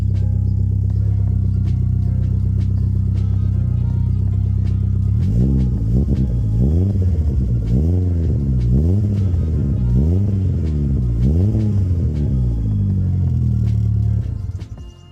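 A car's aftermarket exhaust idles with a deep, steady rumble, then revs repeatedly in rising and falling bursts before cutting off near the end.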